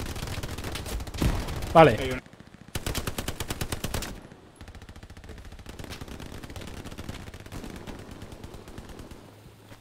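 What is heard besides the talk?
gunfire in the video game Hell Let Loose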